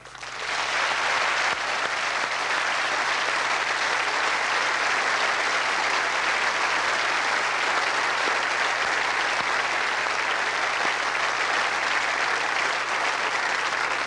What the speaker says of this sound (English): let's applaud these British sportsmen and women and many others who became world champions in 1985